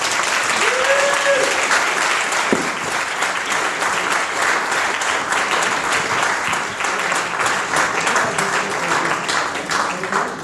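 Loud, sustained applause fills a room as an audience welcomes the performer Tom Lawson at a school art and variety night, steady dense clapping throughout with a brief voice near the start.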